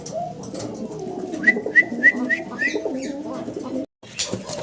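A pair of Jacobin pigeons coos in a short run of four or five soft, evenly spaced calls, close by over a busy background hum of other birds and faint noise.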